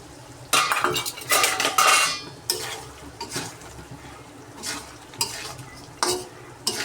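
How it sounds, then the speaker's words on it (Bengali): A spoon stirs meat curry with ground garam masala in a pot, giving loud scraping bursts and metallic clinks against the pot under a light sizzle, with pauses between strokes and no talking. "এখন নেড়ে ছেড়ে আর একটু টানাবো, তারপর নামিয়ে নিই।"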